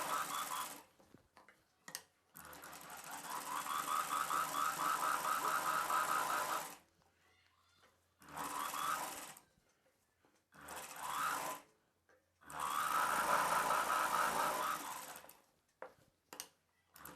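A sewing machine joins a sleeve onto a cross-cut blouse in steady whirring bursts of several seconds each, separated by short pauses, close and clear with no talking.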